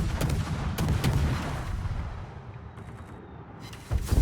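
A warship in a naval video game fires its guns in burst fire, with several sharp booming shots in quick succession early on, then a fading rumble and another blast at the end.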